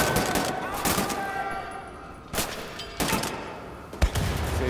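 Bursts of gunfire from the shooter game Wolfenstein The New Order, several loud broadband volleys spread across the stretch, with a sharp final shot, over continuous background game noise.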